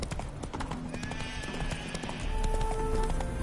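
A horse in the video game The Witcher 3 clopping along at a quick, rhythmic gait, with a whinny rising over the hoofbeats and a steady game background underneath.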